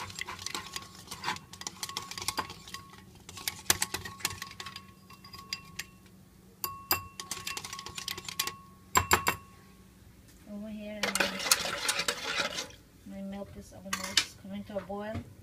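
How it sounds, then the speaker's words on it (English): Custard is whisked in a metal pot: bursts of fast metallic clinking and scraping strokes come in spurts with short pauses, close up, and a person talks over the later strokes. "Whisk it well because you don't want no lumps in it."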